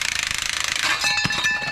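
Impact wrench removing a strut on a Nissan 300ZX, a fast close hammering rattle that ends abruptly, followed by a brief clank and a ringing metallic tail.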